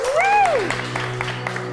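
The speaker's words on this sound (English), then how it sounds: "Give yourself applause." Audience applause at a live music schoolhouse show by a band, scattered clapping and crowd noise under a rising-falling voice whoop at the start, continuing as a moderate, steady patter.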